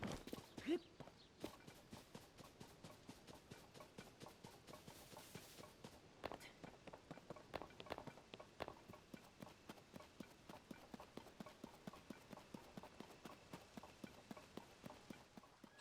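Horse hooves from the video game Zelda: Tears of the Kingdom keep up a fast, steady clip-clop rhythm for the whole stretch, moderately loud and alone in the mix.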